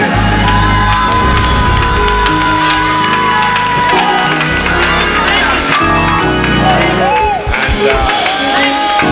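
Church congregation at an old-time shout service yelling and whooping praise, loud overlapping cheers and shouts with organ or music chords sustained beneath.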